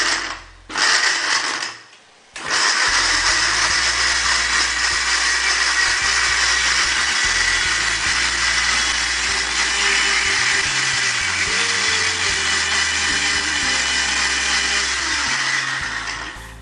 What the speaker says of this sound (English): pulse it twice and then grind it